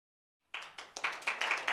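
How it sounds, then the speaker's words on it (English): An audience at a youth competition breaks into scattered clapping after silence, a few hands striking close and clear, building slightly over under two seconds with no voices. "A round of applause for Tsimori."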